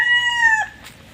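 A single rooster crow rings out clearly, its long tonal call falling off sharply at the end, followed by faint background noise.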